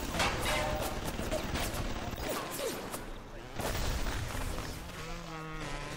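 Turret gunfire in BioShock, rapid bursts of shots layered over a dense game soundscape, steady and fairly close with brief swells in intensity.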